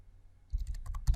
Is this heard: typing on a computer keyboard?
yes